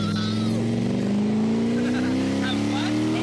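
Race car driven on track with a steady, loud engine drone holding a rising pitch throughout, faint tire and wind noise on top, and voices talking over it.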